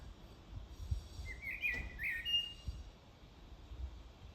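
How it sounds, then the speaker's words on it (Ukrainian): A thrush perched in place sings in the open outdoors, a short, faint, distant whistled phrase of a few rising and falling notes over low background noise. "шикарный дрозд сидит на місці, поет мене"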